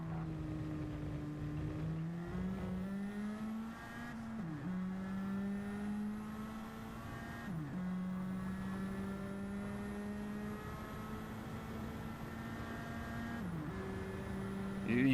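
Race car engine in a racing video game Nissan Silvia touring championship, a steady high revving drone that dips and bogs briefly at each of three or four gear shifts before climbing again.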